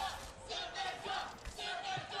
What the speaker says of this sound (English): The crowd chanting for Symmetra.